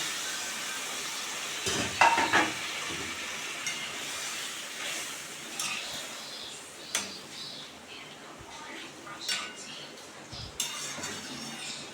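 Water poured into a pan of frying singhi fish sets off a loud hissing sizzle with steam, plus clinks of a plate and utensils; the hiss settles into a steady simmer with occasional clatter.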